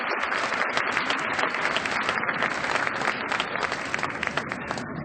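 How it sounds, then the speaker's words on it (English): An audience at a district arts festival evening applauds warmly, steady dense clapping that holds loud and even for several seconds. "give them a round of applause."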